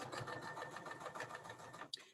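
A sewing machine runs steadily, stitching a quilted project bag in one continuous close, moderately loud burst that stops abruptly near the end.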